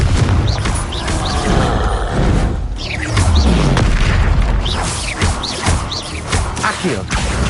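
Confringo spell explosions in a Harry Potter-style game, loud booming blasts and crashing thumps in quick succession under a voice that calls out spell names.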